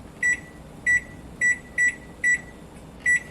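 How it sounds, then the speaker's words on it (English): Kitchen timer beeping while soup simmers, six short bright electronic beeps in an uneven series over a quiet hum, close and clear. "I'm going to set the timer for 10."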